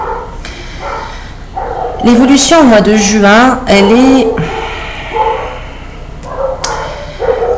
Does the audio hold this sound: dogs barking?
yes